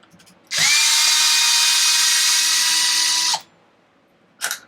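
A power tool removes brace bolts on a Traxxas XO1 RC car in one loud, steady whirring run of about three seconds, then a brief second burst close by.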